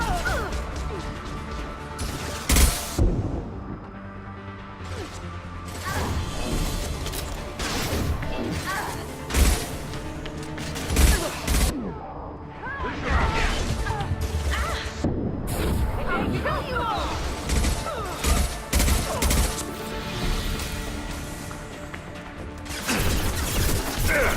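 Heavy high-impact gunfire from the Mass Effect 2 sci-fi shooter, with several loud sharp cracks and crashing impacts spread through dense game music and effects, and voices in places.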